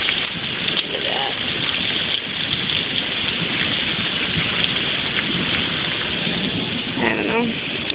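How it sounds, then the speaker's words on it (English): Heavy rain pours down in a steady, dense roar during a rainstorm, loud and constant throughout, with faint voices briefly audible underneath. "I love a good rainstorm."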